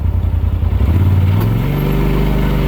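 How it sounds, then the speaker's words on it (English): A close, loud Polaris RZR XP Pro Ultimate UTV engine idles while overheating, with its cooling fan on high, a steady whirring drone rising underneath, no talking. "Hear that the engine fan is on high again"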